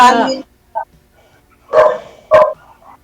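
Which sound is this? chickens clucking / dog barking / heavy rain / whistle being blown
dog barking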